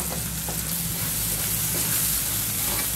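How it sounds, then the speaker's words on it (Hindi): Spices frying with tomatoes in a pan for a sengat ki falli gravy, a loud, dense, unbroken sizzle with occasional stirring clinks, close up. "मसालों को मैं अच्छे से भून लूँगी"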